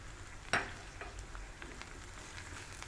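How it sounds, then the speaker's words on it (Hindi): Crushed red chilli, cumin and other spices are stirred in a hot pan, with one sharp scrape of the spoon followed by a quiet, steady sizzle. "इसको हल्का सा हिलाएंगे"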